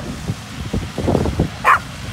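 A dog barks a few times at a combine harvester during a corn harvest, amid a rustling outdoor background, with one sharp higher yip near the end.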